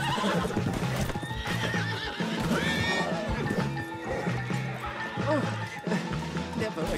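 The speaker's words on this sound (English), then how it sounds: "Put Strauss on the back of John's horse and let's get out of here." A horse in the video game Red Dead Redemption 2 neighs and whinnies while its hooves clip-clop steadily, loud and close, layered over dense game sound effects and faint voices.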